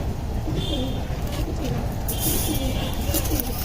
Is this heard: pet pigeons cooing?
yes